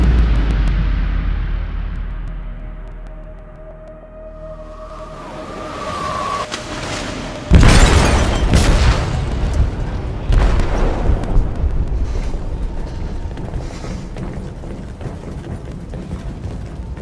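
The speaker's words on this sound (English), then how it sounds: "They detonated an explosive in the hold. The ship is sinking, sir." A bomb going off in the hold of a ship in Detroit: Become Human: a sudden loud boom near the middle, followed by a long, rumbling, crackling aftermath. Beforehand there is a low drone and a fading tone.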